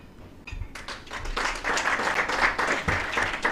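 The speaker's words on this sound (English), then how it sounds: "A round of applause for the IG" Audience applause for the Inspector General of Police at a formal security briefing, a crowd clapping steadily and warmly after a short sharp start, with a few faint voices underneath.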